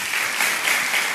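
A church congregation applauds for Jesus during a sermon, a brief burst of steady clapping from many hands at an even, moderately loud level.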